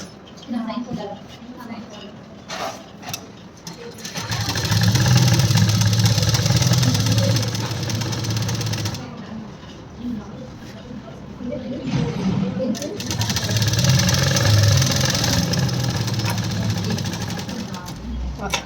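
A sewing machine stitches the neck and hem of a pattupavadai blouse in two long whirring runs, a close mechanical hum with pauses between, while someone talks over and around it.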